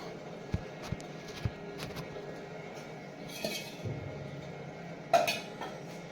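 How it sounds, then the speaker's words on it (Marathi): Dishes and utensils being scrubbed by hand in a home kitchen, with scattered clinks of metal cutlery and pots, a few sharper knocks, and a louder clatter near the end over low background noise. "मी भांडे घासून घेते"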